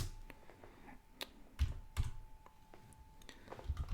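Sparse keystrokes on a computer keyboard while running a text-mode Devuan Linux installer, a handful of separate clicks and taps at an uneven pace, close and fairly quiet, with no talking.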